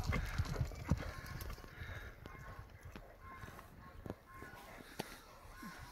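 Horse hooves clip-clop on the ground at a steady pace, moderately close, with outdoor noise around them and brief bits of voice now and then.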